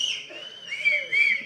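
Audience at a Tamil movie audio launch whistling, several shrill sliding whistles rising and falling over a faint crowd murmur, the loudest bursts near the end.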